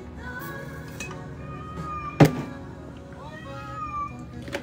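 A cat meows several times indoors, with harmonic calls scattered through the clip alongside faint talk and a sharp thunk near the middle.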